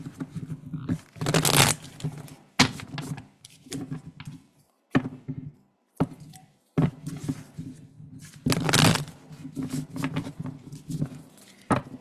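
Tarot cards being shuffled by hand in repeated bursts of riffling and flicking, close and fairly loud, with brief pauses and a few soft thumps of cards set down between bursts.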